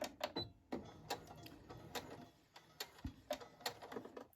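Faint ticking and tapping from a sewing machine stitching a fabric ruffle, irregular light clicks coming close together over a low background.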